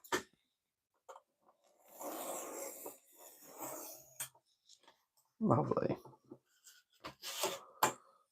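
A small piece is cut for a 2mm-scale Minas Tirith miniature model, giving a few scraping, rasping strokes and sharp clicks at close range, with a voice talking in between.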